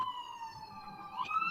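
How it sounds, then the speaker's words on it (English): An emergency vehicle siren wails outside, a faint, steady tone sliding slowly upward, muffled and distant behind room noise. "Sorry if you hear the siren."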